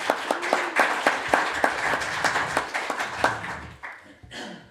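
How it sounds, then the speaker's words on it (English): A round of applause from the audience at a security institute's annual general meeting, dense overlapping clapping that stays fairly steady for a few seconds before thinning out near the end. "So I think, again, Nick deserves a round of applause."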